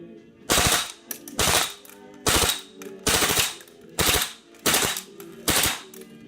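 Airsoft MP5 submachine gun firing in burst mode, seven short rapid bursts spaced about a second apart, each a loud crackling rattle of several quick shots, close and with no talking.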